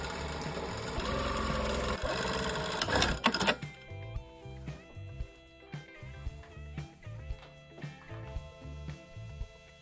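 A home sewing machine stitching a fabric waistband, first a dense busy whir, then a run of distinct rhythmic needle thumps in even pulses, close and moderately loud, with no talking.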